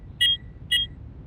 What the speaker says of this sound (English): An alarm pierces the room like a panicked scream.